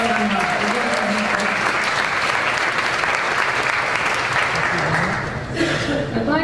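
An awards-evening audience applauds loudly and continuously, clapping filling the room for about five seconds before quickly dying away, with a faint murmur afterward.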